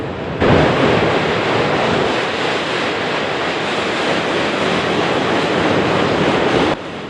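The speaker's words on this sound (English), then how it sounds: "The city of Columbus provides a great backdrop for the train crossing this river." A train rumbles across a river bridge in Columbus with a steady, loud broadband roar that holds evenly for several seconds, with no voices.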